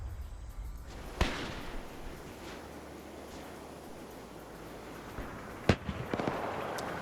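A tank's shot hits a machine gun bunker in a WW2 PvP video game, with two sharp explosive blasts several seconds apart over a steady rumbling battlefield backdrop.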